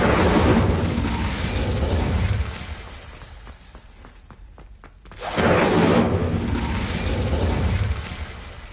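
An Incendio fire spell cast in Hogwarts Legacy, a loud bursting whoosh and crackle that fades into a quiet gap with faint ticks, then a second strong roaring burst follows.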